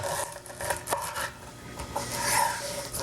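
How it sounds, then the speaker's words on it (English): A knife trims through a lemongrass stalk with short raspy, fibrous scraping strokes, several brief cuts repeated up close in a home kitchen. "Trim it off right about where the stalk starts to turn green"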